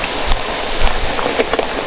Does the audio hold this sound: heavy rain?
yes